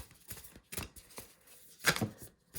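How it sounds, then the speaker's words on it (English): A deck of Work Your Light oracle cards being shuffled by hand: several soft, papery riffling bursts close by, with a louder flurry near the end and no talking. "Let me shuffle them and see what comes."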